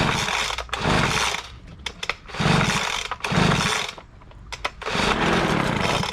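Craftsman 25cc leaf blower two-stroke engine running on half choke, a loud buzzing idle that bogs and surges in uneven waves with brief dips, close up and without speech.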